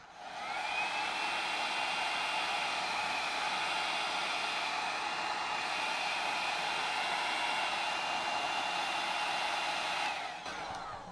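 Heat gun blowing hot air on its high setting, a steady loud roaring hiss that runs continuously for about ten seconds before cutting off, with no talking over it.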